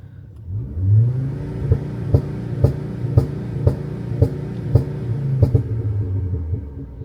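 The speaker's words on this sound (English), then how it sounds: "here's what it sounds like for launch control." A car engine holding revs on launch control, a low steady drone punctuated by a regular series of sharp pops and cracks, close and fairly loud, with no talking.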